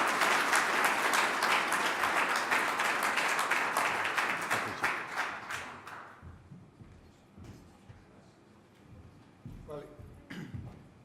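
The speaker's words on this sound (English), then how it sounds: "let's give a round of applause" An audience at a keynote event bursts into loud applause for about six seconds, then the clapping thins and fades into scattered claps, shuffling and a few faint sounds in the hall.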